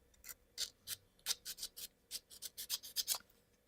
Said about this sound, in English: Smooth them out with the sandpaper.